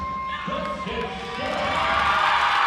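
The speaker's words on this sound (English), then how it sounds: "Wow, huge round of applause" A basketball championship crowd roars and cheers, growing louder and fuller as the noise builds, with shouts and whoops over a steady din.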